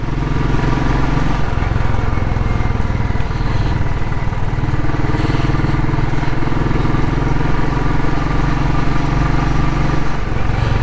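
Royal Enfield Classic 500 single-cylinder motorcycle on a winter ride, its steady low thumping engine drone loud and continuous throughout with road and wind rush, no pauses.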